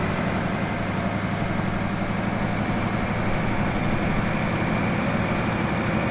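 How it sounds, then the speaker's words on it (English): A BR 204 diesel locomotive engine is revved up to maximum, giving a loud, steady, heavy drone that holds without a break for about six seconds. "I'm going to rev her engine up to maximum."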